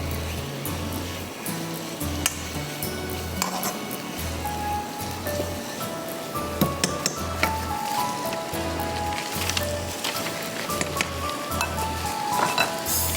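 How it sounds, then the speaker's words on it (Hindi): Chicken sizzles and fries in a pan with a continuous crackling hiss, scattered sharp pops and the occasional clatter of stirring. A low thumping beat runs underneath. "इसमें हम डालेंगे चिकन और चिकन को हम करेंगे फ्राई"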